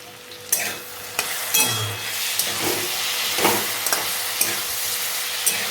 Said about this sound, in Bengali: দিয়ে নাড়তে থাকবো বেশ কিছুক্ষণ।